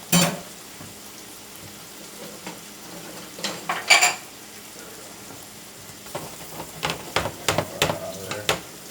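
A wooden utensil scrapes a hot pan of sizzling vaca frita, Cuban fried beef. A steady low sizzle runs throughout, broken by a few scraping strokes early on and then a quicker run of close, crisp scrapes toward the end.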